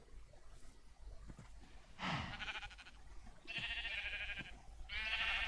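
Sheep in the Minecraft video game bleat three times, loud and close, each call a wavering nasal baa, separated by short gaps filled with soft shuffling noise.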